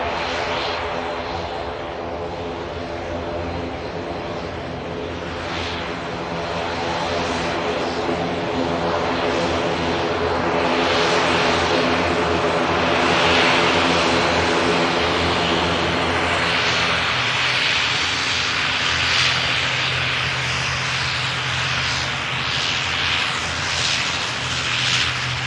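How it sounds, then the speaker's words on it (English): An Aer Lingus ATR 72 turboprop airliner arriving from Belfast City at Manchester Airport drones steadily, its propeller hum swelling louder as it nears and then holding at a broad roar for the rest of the approach. "Got an ATR 72 coming in. We have. Nice. This is Aer Lingus coming in from Belfast City."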